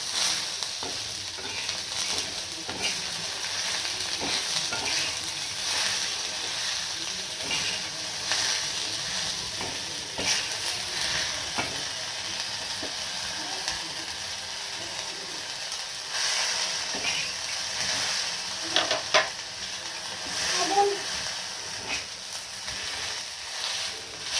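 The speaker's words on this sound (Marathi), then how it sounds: "मसाला असा छान भाजून घ्यायचा आहे." Masala spices roast in a pan for a black mutton curry, a steady soft frying sizzle with scraping stirs running throughout, moderately quiet and close, with no voices.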